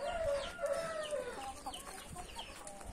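Chickens cluck and squawk nearby in short, overlapping calls, with a faint rooster-like call behind them against quiet background hiss.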